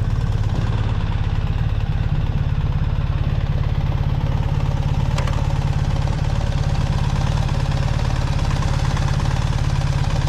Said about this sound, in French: je suis obligé de redémarrer le moteur pour pouvoir reculer la moto